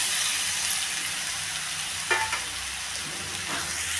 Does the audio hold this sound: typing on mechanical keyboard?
no